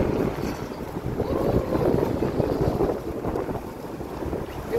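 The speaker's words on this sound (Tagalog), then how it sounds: "Tingnan nyo yung buhok ko kasi lakas ng hangin." Strong wind gusts buffet the microphone outdoors on a hot day, a steady close roar with low rumbling that swells and eases throughout, with no voices.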